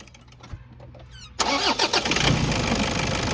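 The 2.5G diesel engine of a 2011 Toyota Innova is cranked and catches after a short whirring crank, then settles into a loud, steady idle rumble up close.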